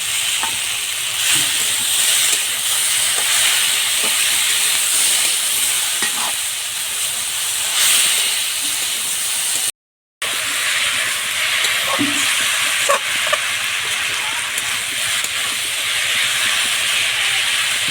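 Chopped jackfruit seeds fry in a pan with vegetables, a loud continuous sizzling hiss with steam and scattered crackles and stirring clicks, close-up with a brief silent gap midway and no talk.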